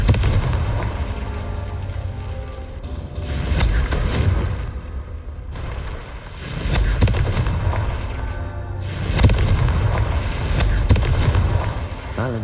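Magic Confringo blasts in a video game, heavy booming bursts with a low rumble, recurring every few seconds over a dense, continuous loud backdrop.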